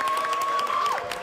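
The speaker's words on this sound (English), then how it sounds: "Everyone applaud Shannon for her great tour guide work." An audience claps and cheers to thank a guide at the end of a studio tour, with dense, steady applause filling the whole short stretch.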